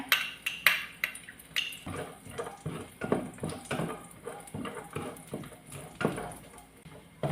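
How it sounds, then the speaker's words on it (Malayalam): Cashews are roasted in ghee in a pan with a spoon, giving quick, close clinks and scrapes in a busy uneven rhythm. "ഇനി ഞാൻ ഈ കാഷ്യൂം കൂടെ ഒന്ന് വറുത്തെടുക്കുകയാണ്"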